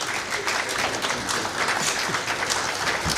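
Dense, steady applause from a conference audience in Kenya welcoming the Cabinet Secretary, many hands clapping at once with no pauses, fairly loud and even from start to finish.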